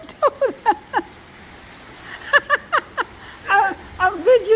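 Pouring rain during a thunderstorm makes a steady hiss in the background while a person talks in short bursts over it.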